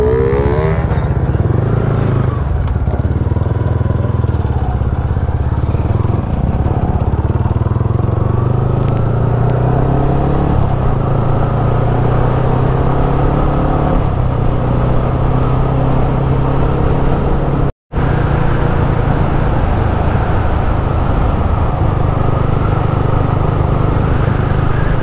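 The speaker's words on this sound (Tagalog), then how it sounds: "Go R15 version 3 versus RS200 top end." A tuned Yamaha R15 v3 runs at top speed beside a stock Bajaj RS200, a loud, continuous engine drone with rising pitch and wind roar, holding near and steady across the run apart from a momentary cutout.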